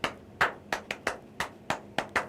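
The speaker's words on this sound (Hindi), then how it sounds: "जिसने भी उत्तर दिए हैं उनके लिए जोरदार तालियां" Nine or so sharp, crisp hand claps sound close and fairly quiet, spaced irregularly at a brisk pace over a couple of seconds with no one talking.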